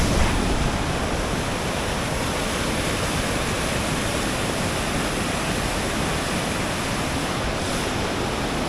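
Strong wind blowing outdoors on the Cumbria Way, a steady loud broadband roar that fills the whole clip with no voices, close and buffeting the microphone throughout.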